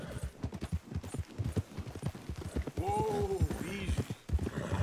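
Horse hooves clip-clopping in the Red Dead Redemption 2 video game, a steady rapid series of close hoof strikes throughout, with someone talking over them and a brief horse snort or whinny partway through.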